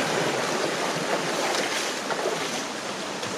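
Rushing water from a waterfall feeds into Coyote Gulch creek in a Utah canyon, a dense, steady, close wash of noise with some wind, and no voices.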